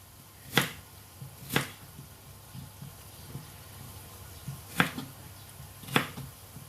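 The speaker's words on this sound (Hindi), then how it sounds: "अब हम प्याज काट लेते हैं इसी तरह।" A knife chops onion into coarse pieces on a board for chicken fajitas, four crisp, fairly quiet strikes landing in two pairs with a pause between.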